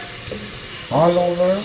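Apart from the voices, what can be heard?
garlic frying in oil in a frying pan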